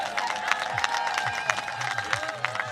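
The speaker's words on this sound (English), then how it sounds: "So the crowd making some noise here." A crowd at para snowboard cross finals in Milano Cortina cheers and applauds, with scattered claps and a few voice swells at a distance, running beneath prominent commentary from people talking.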